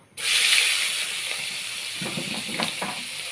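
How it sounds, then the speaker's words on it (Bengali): Chopped onion hits hot oil that has just been used for frying eggs, bursting into a loud, steady sizzle that holds with a few soft stirring knocks and crackles. "এই তেলের মধ্যে আমি কুচনো পেঁয়াজ দিয়ে দেব"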